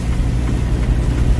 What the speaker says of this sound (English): I'm actually idling my truck a lot.